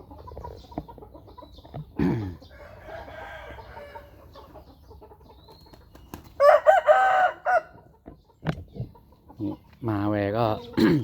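Young fighting roosters crow and cluck in loud bursts, with a clear crow near the middle and clucking calls toward the end, over quieter background sounds.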